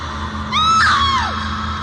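A single sharp high-pitched scream rises and then falls away over about a second, a loud effect in a Hindi horror story, standing alone over a low steady background hum.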